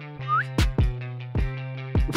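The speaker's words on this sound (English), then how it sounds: "we all learned how to whistle" A person whistles a short rising note once, set among a few sharp percussive hits over a low steady hum.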